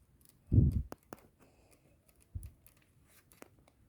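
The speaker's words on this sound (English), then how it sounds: "now it's time to cut off this Donic rubber" Scissors cutting excess Donic table tennis rubber from a paddle, with one firm snip followed by a lighter second cut and faint handling sounds, close and quiet.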